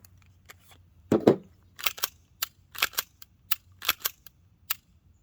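An Umarex Glock 17 Gen5 MOS blowback BB pistol fires about a dozen sharp, close, snappy shots with slide clacks, starting with a quick double shot and then going on at an irregular pace, with no talking.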